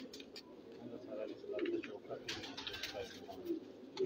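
Pigeons in a breeder's loft coo softly and continuously, a low rolling murmur with occasional chirps, while someone talks nearby over them.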